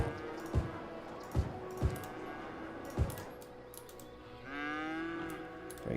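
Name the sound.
cows mooing in Cities: Skylines video game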